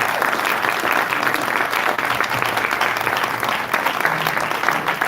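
Audience applause fills a symposium hall, a dense, fairly loud wash of many hands clapping that holds steady throughout the short stretch.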